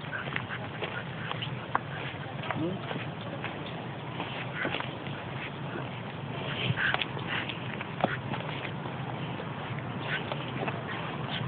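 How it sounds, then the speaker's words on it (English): Faint, distant duck quacks at Attenborough Nature Reserve over a constant outdoor background hiss, with occasional soft clicks. "We heard the ducks."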